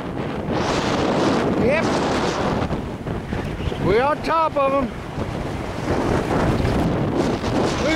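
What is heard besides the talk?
high wind blowing into microphone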